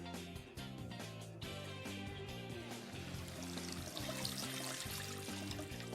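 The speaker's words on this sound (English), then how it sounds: "Now I just take it to the strainer to get the rest of the peas out." Hot water from a pot of cooked peas is poured into a strainer with a steady, splashing rush. The pour is faint and sits under background music.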